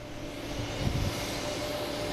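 A JetBlue Airbus A220 on approach into Boston Logan rumbles steadily as a broad, constant jet roar, with no clear rise or fall, heard from a distance.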